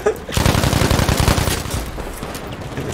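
MG42 machine gun in Battlefield V hammering out a rapid, sustained burst, loud and close, the rhythmic thudding fading into scattered echoing shots.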